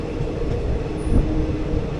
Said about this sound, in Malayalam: ആ ഒരു ട്രെയിൻ ഓടി വരുന്നുണ്ട്, അതാണ് ഹാസൻ ലൈന്